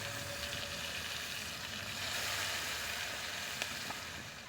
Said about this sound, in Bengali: বাকি মাছগুলো এভাবে লাল লাল করে ভেজে নেব